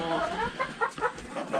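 Backyard chickens cluck and murmur in a chicken run at morning feeding time, a close flurry of short clucks and calls without speech.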